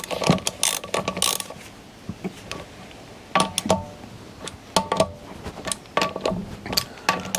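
A hand ratchet clicks in quick bursts while snugging up wheel nuts on a Ford Mondeo MK3 during a rear brake job, several short clattering runs separated by brief pauses, close and alone.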